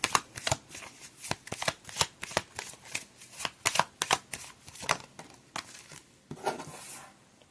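An Egyptian Gods Oracle card deck is shuffled close up, giving rapid, rhythmic riffling and snapping bursts of cards one after another for several seconds, with no talk.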